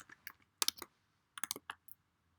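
Code is typed on a computer keyboard in short bursts of close, crisp key clicks separated by brief pauses.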